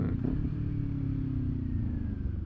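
A Kawasaki Ninja 400 motorcycle engine hums through a downshift at moderate volume, a steady mid-pitched drone with slight changes in pitch and no voices over it.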